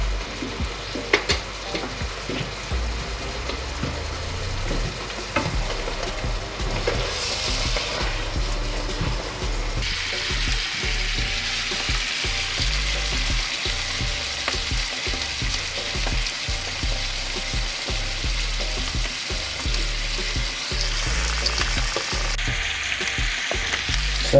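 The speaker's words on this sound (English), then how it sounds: "So now I can hear the sizzling of the fish." Pieces of kob fish sizzle and fry steadily in a hot pan, a dense, close crackling hiss that runs for about twenty-five seconds with faint scraping and stirring sounds mixed in.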